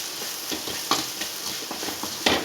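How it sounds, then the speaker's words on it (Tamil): Goat blood goes into onions frying in oil in a pan, producing a steady sizzle with sharp spits and stirring scrapes, close and moderately loud. "வெங்காயம் இந்த அளவுக்கு வதங்கினோடனே நம்ம ரத்தத்தை ஊற்றிக்கிறோம்."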